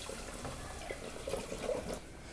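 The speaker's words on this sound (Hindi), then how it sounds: "टमाटर को बॉईल करने के लिए हम लेंगे पानी।" Water pours steadily into a pot in a home kitchen, ready for boiling tomatoes for pizza sauce, a faint continuous splashing trickle with no voices.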